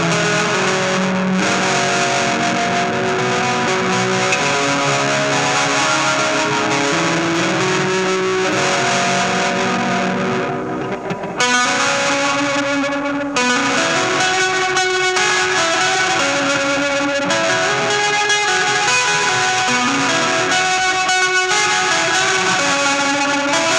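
Electric guitar on the bridge pickup runs through a Validity Sensor Reloaded effects pedal with the mix at full, a loud, dense, distorted stream of sustained chords and notes with a brief break near the middle.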